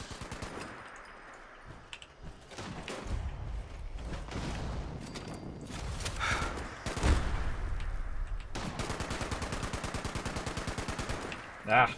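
Gunfire in Fallout 76, scattered shots early, then a sustained machine-gun burst of rapid, evenly spaced rounds near the end, with a voice talking now and then.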